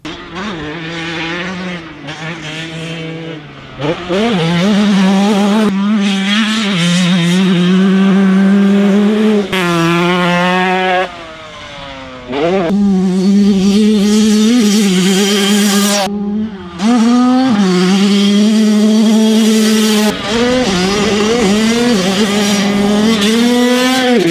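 A 2021 TM 125 two-stroke motocross bike ridden hard, its high-pitched engine revving and wailing through repeated gear changes, loud and close for most of the run with brief dips between bursts.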